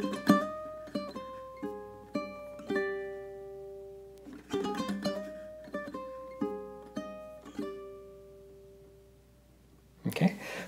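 A ukulele plays a fantasy-style lick inspired by Japanese mythology, a run of clear plucked notes in phrases that ends on a double stop, close and alone with no talking over it.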